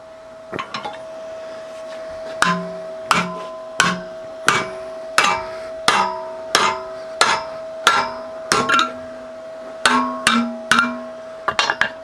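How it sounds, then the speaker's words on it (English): Metal strikes on an aluminium MIG-welded test piece during a bend test: about fifteen sharp, ringing hammer blows in a fairly steady rhythm, close and loud, with a faint steady hum underneath. "We'll do a little bend test on the weld we've just done."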